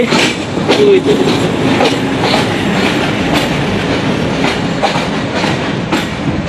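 Jahanabad Express train pulling out of Khulna, a steady loud roar of wheels and carriage rumble with rhythmic clickety-clack over the rails, continuous and close from on board.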